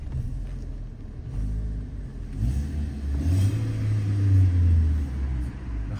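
The 1.4-litre engine of a 2018 Kia Rio X-Line rumbles at idle, then revs up in a steady swell and eases off. It sounds close and unbroken, with no talk over it.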